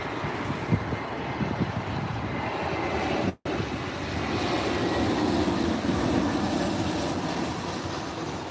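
A Delta Airbus A321neo airliner at Los Angeles airport, its engines producing a steady broadband roar that holds fairly loud throughout, broken by one very brief dropout partway through, with no voices present.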